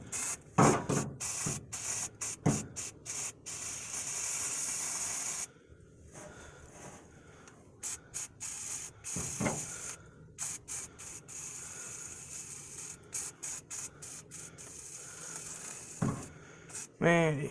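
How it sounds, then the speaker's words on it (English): Metal primer sprays from an aerosol can in steady hissing bursts, some long and some short, with pauses between them and rustling handling noise throughout. "I'm going to try and spray paint it from the back here."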